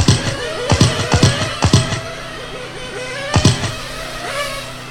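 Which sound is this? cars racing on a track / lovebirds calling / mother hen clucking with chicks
cars racing on a track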